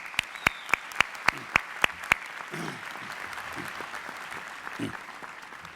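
A few audience members at a university winter graduation ceremony give about eight sharp, evenly spaced claps that stop quickly, followed by faint murmuring and room noise.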